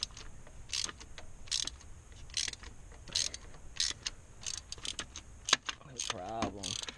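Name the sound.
ratchet loosening spark plugs on a Subaru engine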